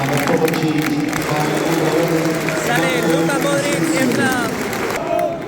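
Football stadium crowd at Celtic Park applauding and murmuring during a substitution, a continuous roar of clapping and voices, with a person talking close over it.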